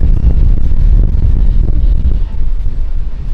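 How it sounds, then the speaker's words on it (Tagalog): Strong typhoon wind roars and buffets a nearby microphone in a continuous low rumble in Daet, with no clear speech over it. "Mahangin na din."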